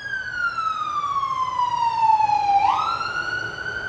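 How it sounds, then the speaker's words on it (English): An ambulance siren passes by outside a home patio, a loud sweeping wail that falls steadily in pitch and then shifts sharply as the vehicle goes past, continuing more distantly afterward. "And there's an ambulance."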